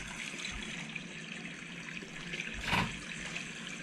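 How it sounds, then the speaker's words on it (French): Water trickles steadily like a running tap, a faint continuous wash with a brief louder splash near the end and no voices. "J'espère que c'est pas juste comme un robinet qui coule tout le long"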